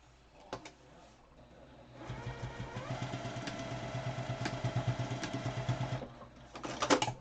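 A sewing machine stitches a fabric mask right beside its wire, starting with a few short bursts, then running in a steady, rapid, close-up mechanical chatter for about four seconds before a final brief burst.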